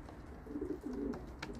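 Homing pigeons cooing softly in a loft, a couple of low, throaty coos close by over faint background noise, brief and quiet.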